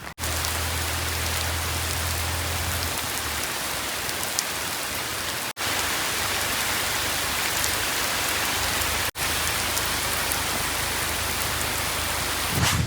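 Heavy, steady rain pours down on a village farm in a dense, continuous hiss, briefly broken by a couple of abrupt cuts.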